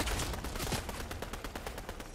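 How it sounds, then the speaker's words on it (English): Rapid automatic gunfire in the Fortnite video game, a dense burst of repeated shots fired close and loud for about two seconds with no talking. "I have people shooting me"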